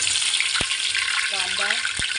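Curry leaves hit hot oil as the tempering for pithla begins, making a loud, continuous close hiss with a couple of sharp pops, and a voice is briefly heard.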